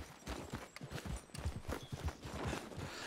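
A horse galloping in the video game Red Dead Redemption 2, quick rhythmic hoofbeats thudding steadily throughout at moderate, fairly quiet level.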